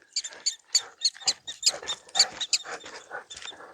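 Rapid, high-pitched chirps from a prairie dog repeat in quick bursts, sharp and fairly close, with no talking.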